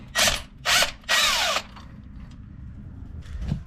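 An Earthquake 3/4-inch cordless impact wrench fires in three loud, close bursts of whirring and hammering, each about half a second long, followed by quieter mechanical rattling.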